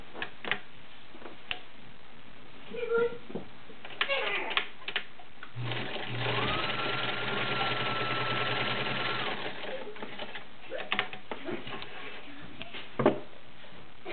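A vintage Kenmore Model 1601 sewing machine stitching through thick layers of fabric, a steady fast mechanical whir lasting several seconds between softer clicks and handling sounds.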